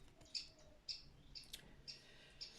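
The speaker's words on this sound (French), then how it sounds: "J'espère que les oiseaux ne sont pas trop forts." Small birds calling outdoors in autumn in France, faint repeated high chirps spaced about half a second apart over a soft background hiss.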